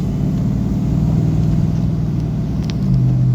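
A car engine idles after its first start, a loud, steady low rumble close by that rises slightly near the end, with no talking.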